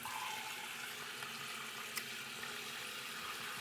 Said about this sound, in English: Now I should just be able to let this down and start filling up.